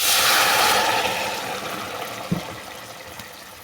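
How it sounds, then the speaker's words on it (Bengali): A burst of hissing as broth pours into a pan of hot fried tempering spices, quickly fading into a softer bubbling simmer with a small clink. "এর মধ্যে তুলে দেবো ঝোল।"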